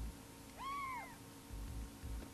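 A cat meows once in the Chrono Cross video game, a short rising-and-falling mew over a low background hum, with faint thumps after it.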